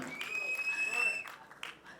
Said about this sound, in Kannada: ದಯವಿಟ್ಟು ಜೋರಾದ ಚಪ್ಪಾಳೆ